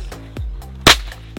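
A naatu Diwali firecracker struck on a table bursts with one sharp, loud crack, with other smaller snaps and pops spaced around it.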